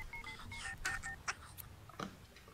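Telephone dialing in The Sims 2, a string of quick electronic keypad tones in a short sequence, moderately loud, with game ambience and background sounds around it.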